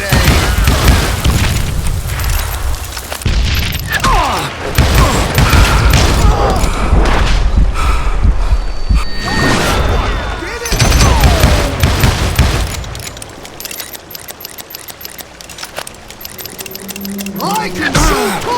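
Rapid gunfire and heavy booms from a Wild West shooter game, Call of Juarez Gunslinger, come loud and dense almost throughout, with shouted voices over the shots and a quieter stretch toward the end.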